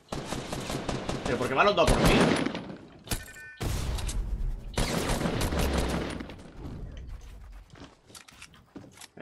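Gunfire in the video game Fortnite, with bursts of rapid shots and sharp single cracks at close range, loud and intermittent, mixed with someone talking over the action.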